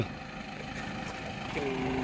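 A Ford tractor engine runs in a steady, low mechanical drone with a rough, throbbing texture, heard moderately close, with voices faintly under it and a brief higher tone near the end.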